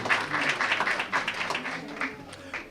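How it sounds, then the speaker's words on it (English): An audience at a school board meeting claps, a short burst of scattered applause that thins out after a couple of seconds, with a faint voice in the room. "We'll still clap for her"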